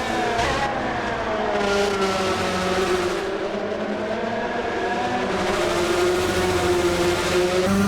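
A race car in Gran Turismo 7 daily races revs hard through its gears, the engine pitch climbing and dropping at each shift, a continuous loud drone with no talk over it.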